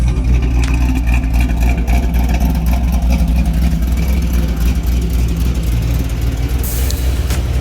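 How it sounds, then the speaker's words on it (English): Electric radiator and transmission cooler fans run on a 1984 Grand Prix car, a loud steady whooshing drone with a low rumbling engine-like undertone, continuous and close, with faint clicks near the end and no talk. "Trans cooler fan kicking. Radiator fans kicking too."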